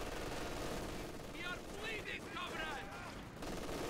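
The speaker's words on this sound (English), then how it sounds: "MG42 is reigning supreme at the moment, suppressing left, right and center." MG42 machine gun bursts rattle in a Company of Heroes 2 battle amid dense, constant battlefield noise, the fire muffled and mixed under a general wash of explosions and game sounds.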